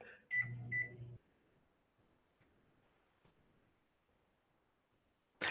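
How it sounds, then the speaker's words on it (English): A microwave oven heating a big cup of coffee: a few loud beeps and a short hum at the start, a quiet stretch with faint ticks and clicks, then another abrupt beep at the end. "Sticking it in the microwave"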